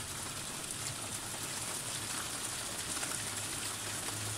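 Hail pelts down steadily during a thunderstorm, a dense, continuous patter of hits with no pauses, heard alone at a moderate level.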